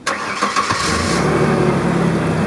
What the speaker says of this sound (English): Go ahead, start the engine.